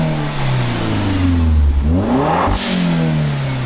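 A Mk1 Audi S3 8L engine revs up and falls back, with a whooshing release from an aftermarket dump valve as the revs drop; loud and close throughout.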